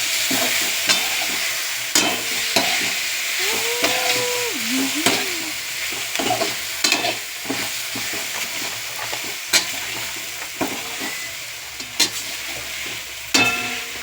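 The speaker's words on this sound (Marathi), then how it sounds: "पास्ताला चांगलं परतू घ्यायचं." Pasta sautés in a pan with a steady sizzle, punctuated by repeated sharp scrapes and clacks of stirring against the pan, close and distinct.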